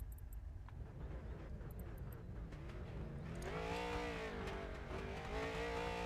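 Street stock race cars at Five Flags in the iRacing sim grow from a low distant drone into louder, rising engine whines as several cars roll together, with no talk.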